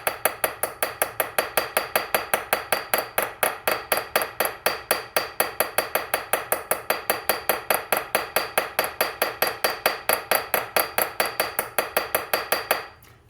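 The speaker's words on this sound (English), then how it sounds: "you want to make sure you aren't hammering too hard on this side, and it could expand the pin over there" Steady rapid light hammer taps peen a metal handle pin on a slipjoint pocketknife, dozens of crisp close ticking strikes in an even rhythm, alone without talk.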